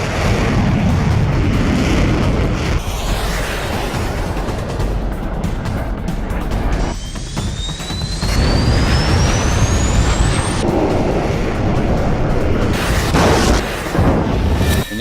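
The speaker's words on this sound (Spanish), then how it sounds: "escucho una explosión muy fuerte" A loud, sustained roar of a missile blast rumbles throughout, with a rising whine cutting across it midway, heard aboard a Falklands War attack jet.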